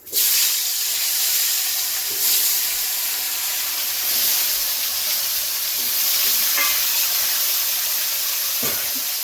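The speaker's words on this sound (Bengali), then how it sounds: "মাছ ভাজা তেলে আলু ভেজে নেব।" Steady, loud sizzling and hissing of salted potatoes frying in hot oil previously used for frying fish, continuous with occasional crackles and pops.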